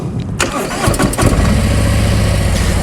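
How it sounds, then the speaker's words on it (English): A motorcycle engine cranks and catches, then settles into a steady, loud idle close by, recorded on a 102-degree day. "I'm going to start the bike"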